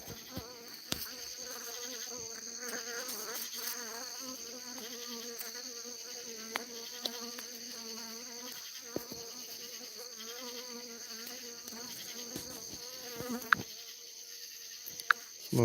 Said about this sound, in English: But they say bees don't fly at night.